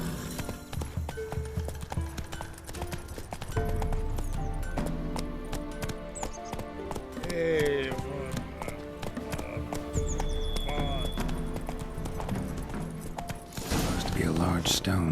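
Roach, the horse in The Witcher 3 video game, gallops with continuous rhythmic hoofbeats and an occasional whinny, mixed with game music and ambience while characters talk over it at intervals.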